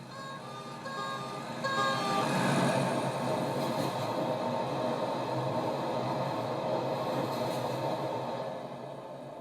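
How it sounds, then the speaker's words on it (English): A GCR Mainline train approaching a station platform, a steady low rumble that swells and holds with a brief horn-like tone near the start, heard from moderately far away. "The train now approaching platform 1 is a GCR Mainline service."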